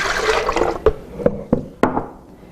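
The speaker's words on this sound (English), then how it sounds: "I'm going to add some water" Water pours and splashes onto dried mushrooms in a kitchen to rehydrate them. A gurgling liquid sound is broken by several sharp drip-like plinks at a steady pace, close and moderately loud.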